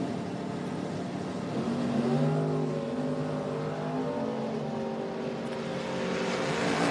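Drag race cars, one a Camaro, roar down the strip at a drag race, a loud sustained engine howl with rising pitch as they accelerate away, heard from trackside without talk.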